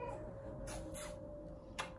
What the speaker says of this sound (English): my kitty is loudly meowing for me right now